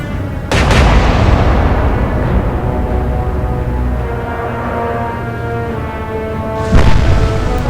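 Heavy battleship main guns fire in the Atlantic Fleet naval game: one deep, loud boom rolls into a long rumbling decay, then a second broadside blasts near the end.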